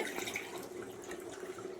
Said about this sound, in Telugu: రెండు గ్లాసులు వాటర్ అయితే పోస్తున్నానండి